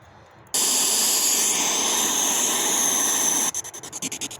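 Spirit box radio scanner at a cemetery bursts into loud, steady hissing static for about three seconds, then breaks into rapid choppy pulses as it sweeps, with no voices.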